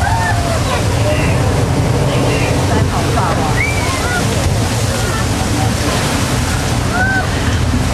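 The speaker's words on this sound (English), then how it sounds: "Now that flash flood is produced by using thousands of gallons of recycled water that are pumped up the top of the hill and released on cue." Staged flash flood at the Universal Studios Hollywood studio tour, thousands of gallons of recycled water pumped up a hill and released on cue: a steady, loud rushing wash of water with scattered crowd voices and shrieks over it.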